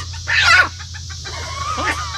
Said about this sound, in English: You're a game chicken, I know.